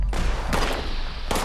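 Gunfire from the video game Fallout 76: a sharp shot at the start, a second loud blast around the middle and a third near the end. Each one is a broadband crack with a rumbling tail, and game ambience runs between them.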